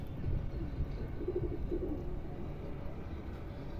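A heavy pigeon with clipped wings gives a couple of soft, close coos over a steady background hiss.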